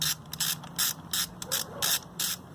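A socket ratchet with metric sockets clicks in quick, close bursts, about eight short rattling pulses with brief gaps between them.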